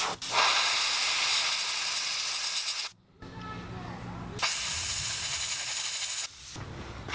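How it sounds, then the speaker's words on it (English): Airbrush spraying crimson paint on a fishing lure, a close steady hiss in long bursts with short pauses between, as a voice talks underneath. "You really want to make sure your airbrush is behaving before you do a little detail like this."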